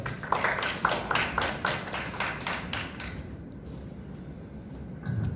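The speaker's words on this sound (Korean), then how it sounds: "박수 부탁드리겠습니다" Applause rises from the audience at a Korean policy seminar as the next lawmaker is introduced, with a few sharp claps heard in a loose rhythm for about three seconds before the room settles into a low murmur.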